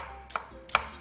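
Two sharp knife strokes cut through onion on a board, slicing it julienne for onion soup, crisp and close in a quiet kitchen.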